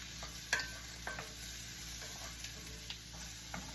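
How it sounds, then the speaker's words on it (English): Vegetables are stirred in a pan of hot pork chop grease, with a soft, continuous sizzle broken by light scraping strokes of the utensil, quiet and close. "Now we're gonna need to stir these veggies over here."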